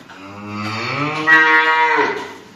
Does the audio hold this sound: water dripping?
no